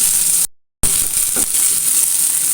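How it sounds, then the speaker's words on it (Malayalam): Curry leaves sauté in a pan with a steady, close hiss and sizzle, broken by one brief silent gap and a few soft stirring scrapes. "കുറച്ച് കറിവേപ്പില ചേർക്കാം. നല്ലോണം ഒന്ന് വഴറ്റിയെടുക്കാം."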